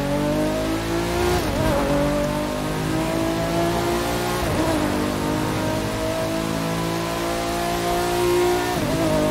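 A Nissan Skyline GT-R Drift Edition in The Crew 2 revs hard and accelerates, its engine note climbing through repeated gear shifts with brief dips between them, loud and close with faint tire noise.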